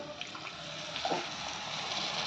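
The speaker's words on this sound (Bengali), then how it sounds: "এবার এটাতে অ্যাড করব সামান্য পরিমাণে জল" Water is poured into a paneer and vegetable curry as it cooks. It makes a steady, close splashing pour that lasts the whole moment, with no voices.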